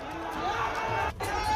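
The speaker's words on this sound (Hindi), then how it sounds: "ये शोरगुल हो हल्ला आप सुन सकते हैं" Crowd commotion during a clash between two communities at a street protest in Patiala, Punjab, with a dense roar of shouting and chatter rising steadily amid heavy security presence.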